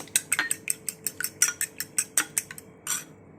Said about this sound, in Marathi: आता आपण अंडी फेटून घ्यायची आहेत छान असे फेटून घेऊया